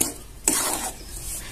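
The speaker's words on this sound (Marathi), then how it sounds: "सगळं मिश्रण एकत्र नीट व्यवस्थित करून घ्यायचं." A sabudana barfi mixture is stirred in a pan with a spoon, giving a brief scraping swish and one sharp stroke partway through, close and alone.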